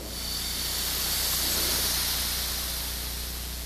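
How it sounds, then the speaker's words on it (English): Compressed oxygen bleeding out of an oxy-acetylene cutting torch gives a steady, loud, broadband hiss that swells slightly and holds without a break, close by and alone. "Close the torch valve and bleed the oxygen the same way"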